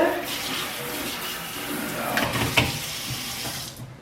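Tap running into a kitchen sink to fill it with soapy water, a steady close rushing splash that continues throughout with a few faint clinks, no voices.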